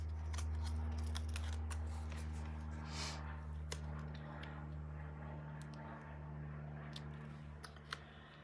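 Scissors snip paper and lace for a wedding album page, a series of short crisp cuts close by over a steady low hum, with no talking.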